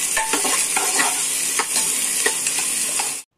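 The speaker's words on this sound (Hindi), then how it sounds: "इसको भी फ्राई कर लेंगे ऐसे ही।" Capsicum pieces frying in a pan while being stirred, giving a loud, close, continuous sizzle broken by repeated scraping stir strokes, with no talking, before the sound cuts off abruptly.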